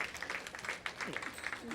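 Studio audience applause and clapping during a radio interview at Hot 97, a busy patter of hands heard under ongoing talk.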